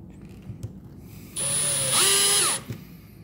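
A power drill driving short screws into a Joso wifi switch whines in one loud burst of about a second, rising in pitch as it runs, with quiet handling noises before and after.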